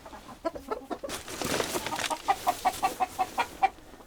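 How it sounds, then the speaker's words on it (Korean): Hens clucking in a winter coop at Gombaeryeong, a run of short rhythmic clucks in the second half following a brief burst of flapping and rustling, close and fairly loud. "하영 씨는 매일 아침 닭들을 만납니다."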